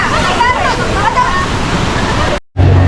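Ocean waves wash steadily onto a beach in Bohol, Philippines, a continuous broad surf roar with faint crowd babble behind it, cut by a brief dropout near the end.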